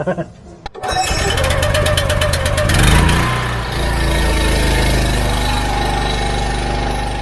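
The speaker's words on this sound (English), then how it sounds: "thanks to Aaron at Q Services, got that ex-demo engine fitted and working" A Honda GX390 petrol engine, an ex-demo unit fitted to a pressure washer, starts with a pull and settles into a loud, steady running drone with a rough rumble, heard close up with a rising swell partway through.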